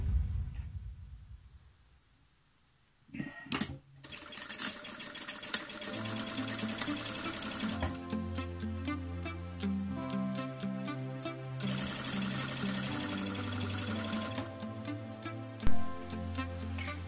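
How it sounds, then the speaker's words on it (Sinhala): Domestic sewing machine stitching along the folded edge of a fabric strap for a baby frock, running in steady mechanical bursts with a brief pause near the start and a short stop midway. "නවලා මේ විදිහට මේ අයින දිගේ මැෂින් පාර ගහගෙන යන්න ඕනි."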